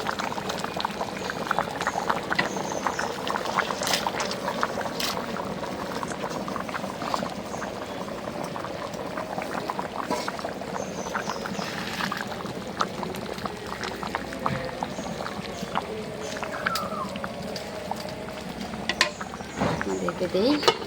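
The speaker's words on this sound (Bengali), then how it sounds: "কিছুটা বলক এসে গেছে" Khichuri made with aman rice and dal simmers at a rolling boil in a pot, giving a continuous close bubbling and hiss with occasional clinks, while a voice speaks faintly in the background.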